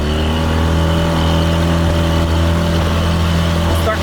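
A 1989 30hp Yamaha Mariner outboard motor runs loud and close on a boat, a steady droning roar with a slightly uneven, missing edge from dropped cylinders, and a voice faintly under it.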